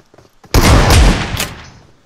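A single loud, close shotgun blast in a first-person shooter game, a sharp broadband crack that decays over about a second, with no voices.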